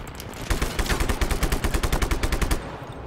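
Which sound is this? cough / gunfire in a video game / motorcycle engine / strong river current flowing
gunfire in a video game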